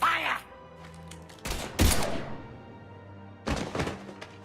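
Gunfire in the video game Mass Effect 3: a few heavy booming shots and thumps with a crash, loud and close, between quieter stretches, with dialogue voices in the game mix.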